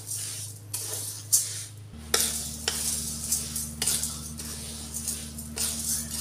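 Grains and spices for thalipeeth bhajani dry-roasting in a pan, stirred with repeated scraping and light clinks of a utensil over a low steady hum, close and fairly quiet.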